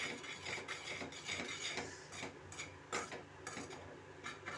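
Poha upma being stirred in a pan with a spoon, giving soft scraping clinks and faint sizzle in an irregular rhythm, close and fairly quiet with no talk.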